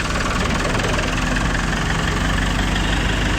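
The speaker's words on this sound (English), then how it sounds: "he hadn't got the pump idled up yet, but it's on its way" A dredge pump engine idling at a pond, a loud, steady, low rumbling drone with a constant throb and no pauses or talk.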